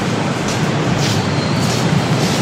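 Steady broadband rumble of an MRT train ride in Manila near Shaw Boulevard, a continuous rolling roar with faint high squeals, no clear voices.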